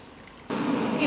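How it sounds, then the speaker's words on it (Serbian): Hot water pours into a cooking pot with a cloth and jars inside, ready for pasteurizing; a steady rushing splash starts abruptly after a quiet moment and continues close by. "U šerpu ću sipati vruću vodu"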